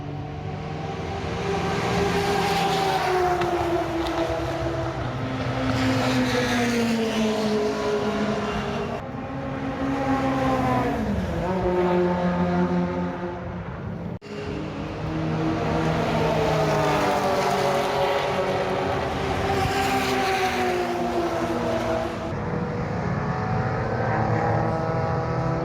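Historic race cars lap a circuit at night during a 24-hour race. Loud, continuous engine drones rise and fall in pitch as cars pass one after another, with no talking.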